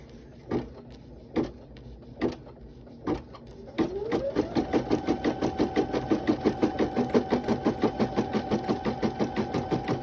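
A sewing machine stitching hair onto a baby wig gives a few separate clunks, then starts up and runs in a fast, steady, close stitching rhythm with a rising motor whine.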